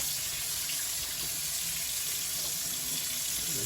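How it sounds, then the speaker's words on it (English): A kitchen faucet runs in a steady, unbroken rush while brined pork belly is rinsed under it, a close, even hiss with no voices. "Go ahead and turn on some water here. Like I said, all we're going to do is rinse this off"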